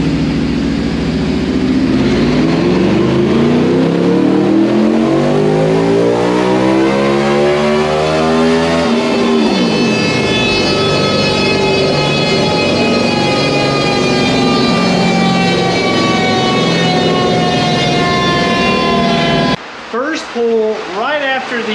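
A 2019 Yamaha VMAX on a dyno with an unrestricted, flashed ECU screams through a full-throttle pull, its engine note climbing steadily through the gears with a brief dip, then cutting off near the end, loud and close.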